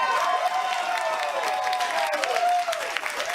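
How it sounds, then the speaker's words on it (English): Studio audience at a late-night television talk show applauding and cheering, a loud sustained crowd clapping with some whoops throughout. "They are applauding a statistic."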